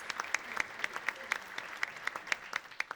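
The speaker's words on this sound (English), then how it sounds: "Please join me in giving all of our speakers a round of applause." An audience gives its speakers a round of applause at a public talk on targeted violence, with a sparse scatter of distinct nearby claps in an uneven rhythm, fairly quiet and with no voices over them.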